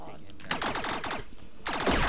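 Rapid bursts of video game gunfire, a chattering automatic volley followed by a second burst, close and loud over a steady background.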